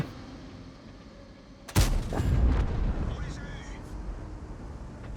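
Artillery in World of Tanks fires one sudden heavy blast, followed by a rolling, rumbling decay, with a voice talking in the background.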